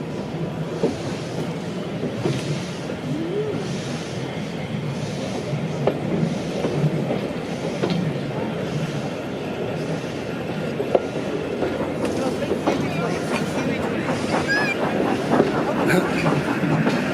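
Heritage steam train running on the West Somerset Railway toward Bishops Lydeard, heard from on board as steady rumbling rail noise with clickety-clack wheel beats and occasional squeals, with faint voices in the background.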